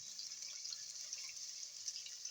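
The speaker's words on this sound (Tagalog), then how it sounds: "Ayan, mainit na tubig." Hot water poured over fish in a kitchen to remove its fishy smell, a soft, steady hissing splash running through the whole moment, fairly quiet and uninterrupted.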